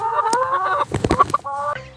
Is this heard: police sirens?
no